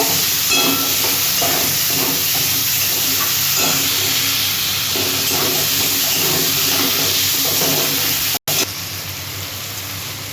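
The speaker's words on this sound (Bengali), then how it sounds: "পেঁয়াজটা আমি দিয়ে দিচ্ছি পেঁয়াজটা একটু হালকা করে ফ্রাই করে নেব" Sliced onions frying in oil in a pan, a continuous close hissing sizzle with faint clinks from stirring, steady and loud throughout with no talking.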